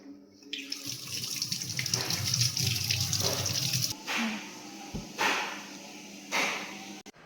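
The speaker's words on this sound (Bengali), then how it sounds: "এখন সে তাড়াতাড়ি ধুতে যাচ্ছে ফলটা।" Tap water runs steadily into a sink as a dragon fruit is rinsed under it, the flow loud at first and then breaking into shorter splashing bursts.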